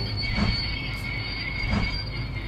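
A train in the video game Playtown rolls along steadily, its wheels squealing over a constant rumble, with a faint rhythmic clack and no talking.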